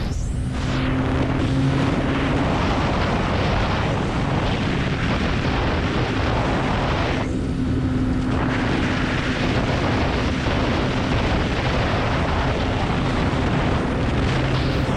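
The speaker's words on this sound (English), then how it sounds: "the bike is much louder in person than it is in video." A 2025 CFMoto 675SS sport motorcycle on the road, its engine droning steadily under heavy rushing wind buffeting, loud and continuous throughout with no voices.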